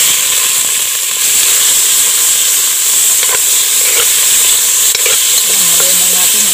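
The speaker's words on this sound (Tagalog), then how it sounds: "sigigisa natin itong ating konting baboy." Pork sizzles loudly in hot oil in a pan outdoors, a steady crackling hiss with occasional clinks of a utensil stirring the pan.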